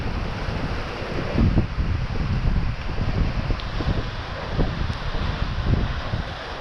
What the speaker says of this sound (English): Some of these waves are getting a little big.